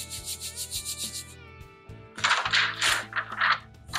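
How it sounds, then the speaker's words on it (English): Hands press and rub paper firmly onto a Cricut cutting mat, a rhythmic run of soft swishes followed by louder, scratchier rubbing strokes close by, with no talking. "push down on the paper and really make sure that you press it into the mat"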